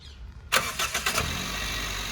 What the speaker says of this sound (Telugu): సింగిల్ సెల్ఫ్లో బండి స్టార్ట్ అవుతుంది